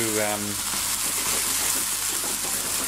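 Dry white wine reduces in a hot pan for a tuna ragout, giving a steady close sizzle and bubbling hiss throughout, with a brief low tonal clunk near the start.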